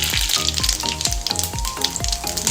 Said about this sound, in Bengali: তেল গরম হয়ে গেছে। এবার আমি দেবো জিরে ফোড়ন